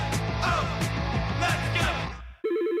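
A telephone rings in a radio advertisement, a short electronic ring that breaks in loudly and clearly just after a burst of music cuts off.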